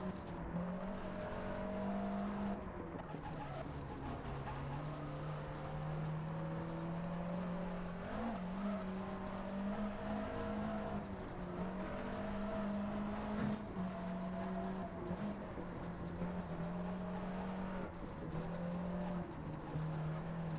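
A rally car in the Richard Burns Rally simulation runs a gravel stage near Waterford-to-Belfast roads, its engine droning and shifting pitch steadily with gravel and tire noise underneath, sustained throughout.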